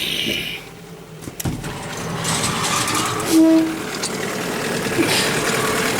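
A Hangkai 9.8 outboard motor running in a barrel during break-in, a steady close engine drone with a low mechanical rumble, continuous throughout with slight swells in level.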